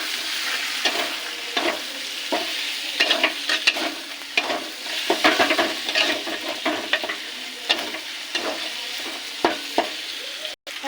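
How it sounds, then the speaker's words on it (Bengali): Turmeric, cumin and chili powders sizzle as they are sautéed in a pan for a fish-head moong dal, with repeated stirring scrapes and light clatters over a steady frying hiss, near and continuous. "এবার কষিয়ে নেব।"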